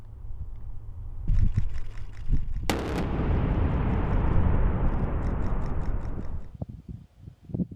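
Rocket-carried C4 explosive charges detonate during military minefield-clearing demolition, a loud ragged blast that rolls into a long sustained rumble with sharp cracks and thuds, heard without speech.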